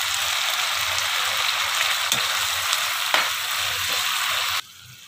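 Steady loud sizzling from Vegetable Manchurian sauce in a hot pan as water is added, with a few small pops and stirs before it cuts off sharply near the end.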